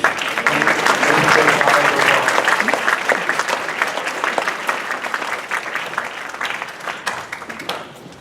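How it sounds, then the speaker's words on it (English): An audience applauds the Sebring High School Show Choir after its performance. The clapping starts loud and dense and slowly thins and fades over about eight seconds, with no voices over it. "please give a round of applause to the Sebring High School Show Choir for a beautiful performance"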